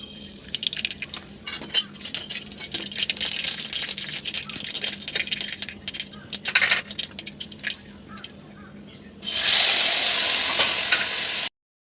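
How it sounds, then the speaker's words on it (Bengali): Mustard seeds sizzle in hot mustard oil in a wok, a crackling, spattering fry with stirring rattles and clinks, then swelling into a louder, steady hiss before stopping abruptly. "কড়াইতে সর্ষের তেল দিয়ে দিয়ে দিয়েছিলাম সর্ষে ফোড়ন"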